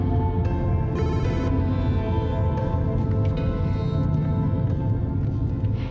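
A phone ringback tone while a call is placed in an Indonesian soap opera, steady and continuous for several seconds under a dense background of music, with no talking.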